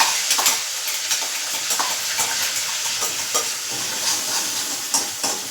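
Tomato and chilli paste fries in hot oil with garlic and cumin, giving a close, steady sizzle broken by the clatter and scrape of stirring in the pan.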